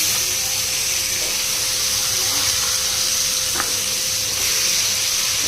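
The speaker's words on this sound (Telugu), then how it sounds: "ఇదిగోండి పీతలు కావాలన్నా ఫ్రై పెడతానండి" Crabs fry in a hot pan with a loud, constant sizzle, broken by a couple of faint clicks as the pieces are turned over.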